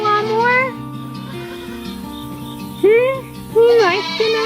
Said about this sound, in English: Kittens are out here.